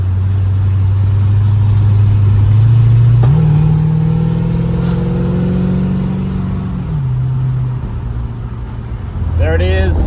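A repaired car engine, a Holden Torana or Ford AU being prepped for Summernats, runs loudly at a steady idle, rises through a sustained rev for a few seconds, then settles back, with a brief voice near the end.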